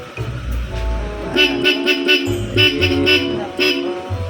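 Repeated short blasts from a car's aftermarket dual horn, a two-tone honk sounding roughly five times up close, with an engine idling underneath.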